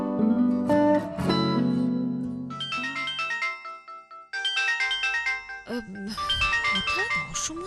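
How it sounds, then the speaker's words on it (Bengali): A phone's melodic ringtone plays loudly and steadily for several seconds, its repeating electronic notes changing pitch as the tune goes on, with no voices over it. "হঠাৎ অসময়ে ফোন।"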